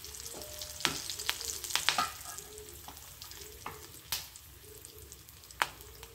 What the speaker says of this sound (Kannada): ಒಗ್ಗರಣೆ ಎಲ್ಲ ಚೆನ್ನಾಗಿ ಬೇಯ್ತಿದ್ದ ಹಾಗೆ ಕರಿಬೇವು 1 ಎಸಳು